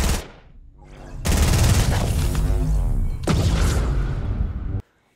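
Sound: gunfire shooting a cube in the video game Fortnite

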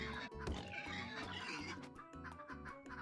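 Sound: pigs oinking in the video game Turnip Boy Commits Tax Evasion

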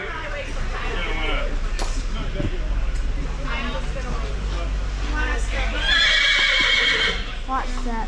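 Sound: horses neighing at Horse Progress Days

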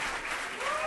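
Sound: audience applauding

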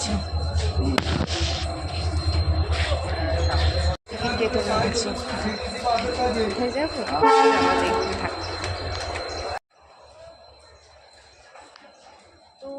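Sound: train at railway platform, horn

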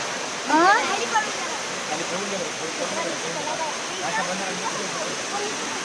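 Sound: rushing water

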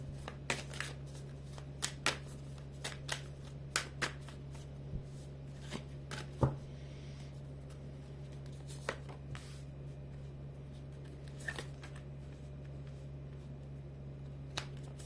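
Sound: shuffling tarot cards

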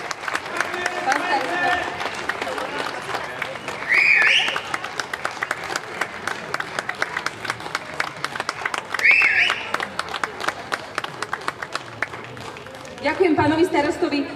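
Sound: audience applause at Goral folk festival

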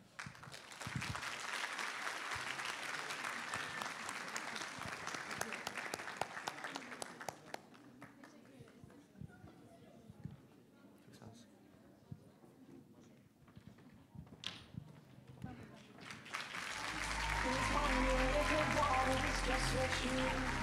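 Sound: audience applause for fashion show models

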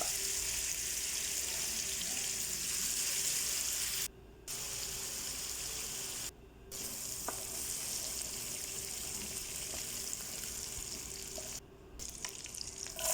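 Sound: frying chicken in oil in a pan

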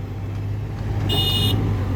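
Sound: Fuso Deca 270 truck engine

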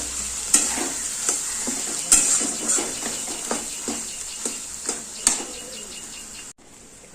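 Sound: mashed potato spice filling being stir-fried in pan

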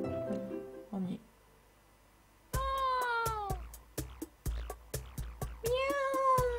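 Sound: cat meowing in the video game Dandelion

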